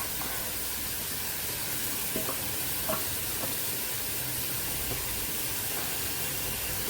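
Spice paste with coconut fries in a pan for a Bengali potato, pointed gourd and prawn curry, a steady soft sizzle with a few faint stirring scrapes throughout.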